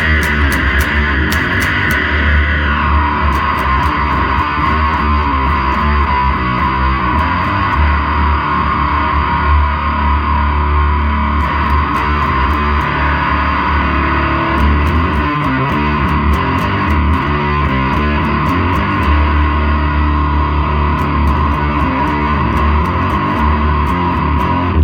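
Fuzzy, distorted electric guitar through a germanium fuzz pedal into an octave-up pedal, thick saturated buzz with shifting, cocked-wah-like sweepable midrange, loud and up close.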